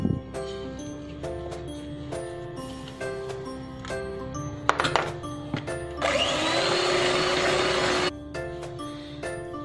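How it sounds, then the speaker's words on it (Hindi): An electric beater whips sponge cake batter for a strawberry sponge cake as powdered sugar is added. Its steady motor whir runs for about two seconds between lighter clinks, over a tinkling musical background. "स्टार्ट करते हैं, इसको बीट करते हैं।"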